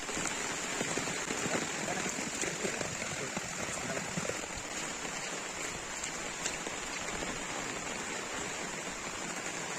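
Steady rain falling, a dense even patter with hiss throughout, loud and close, no voices.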